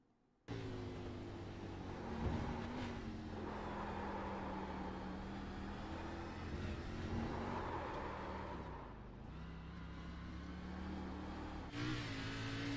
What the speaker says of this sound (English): I want to see the hands of Jordan Bain holding on to that race car for dear life through the exit of the bus stop